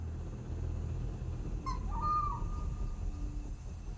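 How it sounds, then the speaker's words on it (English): A drongo gives a brief, faint alarm call near foraging meerkats, a few short chirps standing out for a moment over a low, steady outdoor rumble. "The drongos sound their alarm call, alerting the meerkats."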